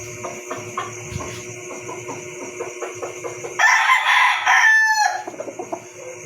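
A rooster stag for derby fighting clucks softly at first, then lets out one loud, close crow lasting about a second and a half, followed by more clucking.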